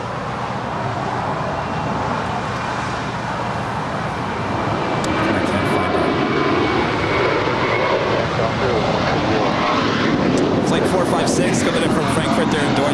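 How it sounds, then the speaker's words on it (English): Lufthansa Boeing 747 jet airliner at a busy airport, its engines a broad steady roar that swells gradually and stays loud, with a voice talking over it. "And of course, we have the Lufthansa 747 here today."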